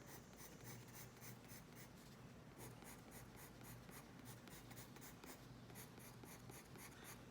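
A 4B pencil cross-hatches shading onto paper on a tabletop, giving a continuous close scratchy rasp of short, rhythmic strokes with no talking.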